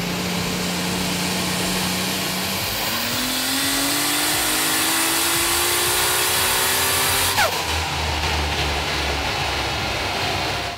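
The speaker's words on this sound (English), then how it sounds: "the car went back on the dyno at Croydon Racing Development so we could turn up the boost" A Nissan R32 GT-R with a Garrett GTW 3884 turbo runs hard on a dyno at turned-up boost. The engine tone climbs steadily for several seconds before cutting off sharply, loud and droning against a roaring background.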